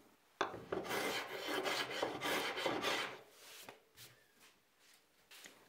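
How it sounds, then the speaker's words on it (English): Wood planer shaving sticky tape off MDF shelf stock, a dense rasping, scraping pass lasting about three seconds, then a few lighter scrapes and taps as the work tapers off. "using a wood planer."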